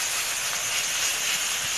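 Chopped onion dropped into a hot pan while sautéing for a budget lunch recipe, giving a steady, close, broadband sizzle that holds evenly throughout with no talk over it.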